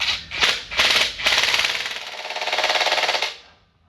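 An impact drill drives anchors into a floor to secure a network data rack, heard as a few short rattling bursts that run into one sustained loud, close hammering buzz that stops after about three seconds.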